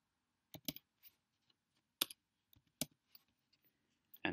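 Sparse, quiet keystrokes on a computer keyboard tap out in short irregular bursts with pauses between, close and alone in an otherwise silent room.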